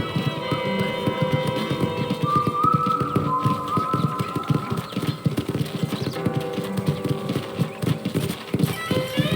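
Horse hooves clip-clop steadily at a ranch corral in Red Dead Redemption, a continuous close trotting rhythm over a busy bed of game ambience and music, with no voices.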